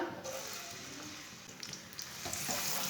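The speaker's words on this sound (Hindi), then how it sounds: "प्याज को हल्का सा ब्राउन कर लेंगे" Chopped onion frying in half a cup of oil in a home kitchen pan, a steady soft sizzle running throughout with faint scrapes and stirring touches, no voices.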